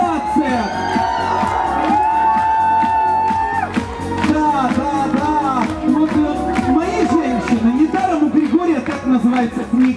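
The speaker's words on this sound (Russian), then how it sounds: "искупайте ее в овациях" A crowd at the closing ceremony of the Zvezdny Briz children's camp festival claps and whoops in a loud, sustained ovation, with an amplified voice and music ringing over the cheering.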